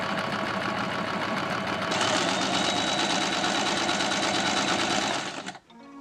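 A sewing machine stitches a strip of satin for a scrunchie, with a fast, steady mechanical whirring and chattering that speeds up slightly after two seconds, then winds down and stops near the end.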